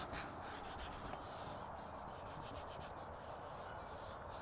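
A cloth rubbing satin interior detailer into car interior trim overhead, a continuous soft scrubbing and swishing with faint back-and-forth strokes, close and fairly quiet with no talking.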